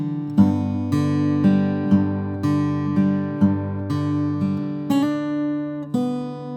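Fingerstyle acoustic guitar playing a line from a song, plucked notes with regular bass accents over ringing open strings, close and clear, no talking.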